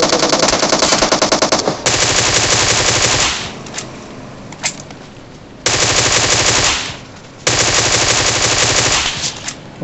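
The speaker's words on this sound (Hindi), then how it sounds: "पीछे से फायरिंग आ रही है।" Automatic gunfire in PUBG Mobile: loud rapid bursts of machine-gun fire separated by short pauses, with a couple of single sharp shots in between.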